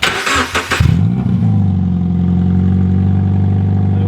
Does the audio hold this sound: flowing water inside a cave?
no